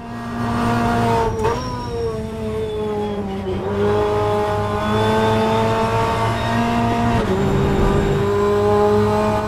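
A BTCC touring car in the rFactor2 racing game at Oulton Park, its engine revving loudly and steadily through gear changes with rising and dipping pitch, alone without talk.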